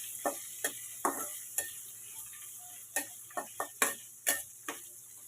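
Onion and green chilies fry in a pan for brinjal fry, a faint steady sizzle hiss broken by a dozen sharp clinks and scrapes of a spoon stirring at an uneven rhythm, no talking.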